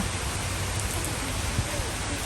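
Steady, dense rain pours down at a hotel swimming pool in Sisaket, a constant loud hiss with no breaks, and a faint voice may be buried beneath it.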